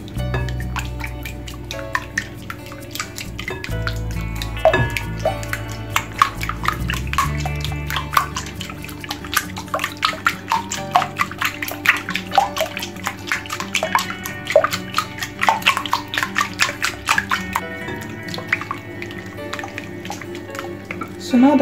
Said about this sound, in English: So now we are going to whisk this.